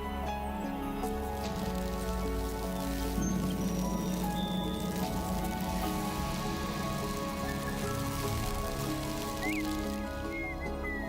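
Steady rain falls across the open savanna of Brazil's Cerrado, a constant dense patter on the ground and vegetation lasting throughout, with faint scattered calls in the background.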